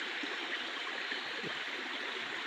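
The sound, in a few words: stream water flowing after heavy rain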